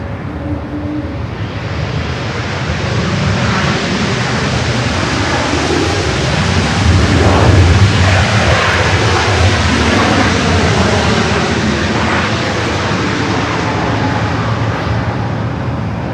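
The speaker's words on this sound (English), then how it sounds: "Looks like Iberia, the A350-900, the flight coming from Madrid" An Iberia Airbus A350-900 in from Madrid arrives at LAX, a loud sustained jet roar that builds to a peak midway with whining engine tones sweeping down, then eases slightly while staying strong, without any talk.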